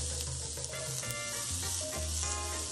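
Thinly sliced onion fries in a little oil in a pan, giving a continuous close sizzling hiss with faint crackles throughout and no talking.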